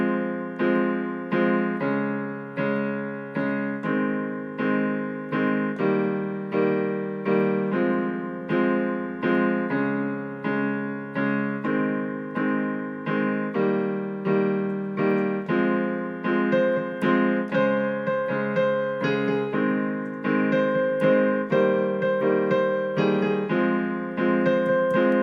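Solo piano plays a song, with steady, evenly paced chords and melody notes ringing out cleanly without any voices.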